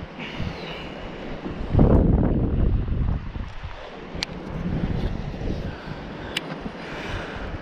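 Wind gusting across a lake around a fishing boat, a broad rushing roar that swells and buffets the microphone, with faint water lapping and a few sharp clicks, no talk.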